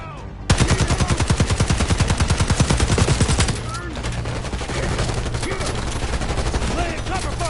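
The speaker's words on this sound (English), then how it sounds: "Laying cover fire!" Machine-gun cover fire in the Black Ops 6 campaign: a loud, rapid automatic burst erupts, then continues as a sustained barrage of mixed gunfire, close and dominant throughout.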